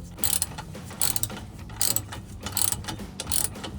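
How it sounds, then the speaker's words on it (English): A ratchet clicks in repeated rapid bursts, tightening an exhaust clamp on a 2005-2010 Mustang V6 axle-back exhaust, about five strokes with short pauses between, close and mechanical, no voices. "I'm gonna tighten this as much as I can."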